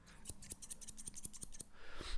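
Scissors snip about ten times in a steady, quick rhythm, crisp and close, with a soft rustle at the end and no talking.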